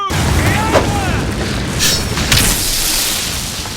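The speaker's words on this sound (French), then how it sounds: "Le bruit de foudre de Solas là m'a juste niqué les oreilles." Thunder from the lightning spell of a mage companion in Dragon Age: Inquisition booms loudly and fills the whole clip with a sustained crackling rumble and a few sharper bursts.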